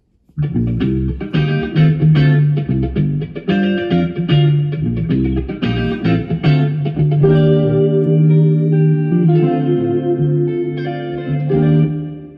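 A Mic Mix Master Room XL-210 spring reverb unit processes a loud musical signal, with sustained tones smeared and trailing in a wet, echoing wash that swells and decays over several seconds.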